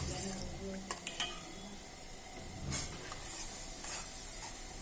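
A spoon stirs solkadhi, a coconut milk mixture seasoned with salt, giving soft swishing with a few light clinks against the vessel, quiet and close.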